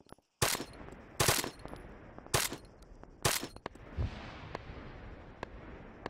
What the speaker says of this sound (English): What's shooting at the hill?